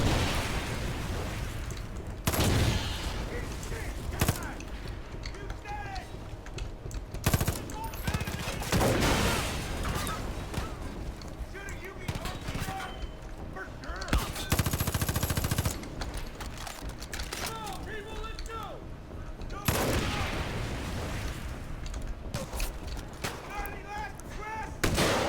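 A building in Far Cry 5 Arcade, in a Red Faction Guerrilla Mars map, being blown up with gunfire: repeated bursts of loud gunfire and heavy explosive booms come in clusters, with brief quieter gaps between.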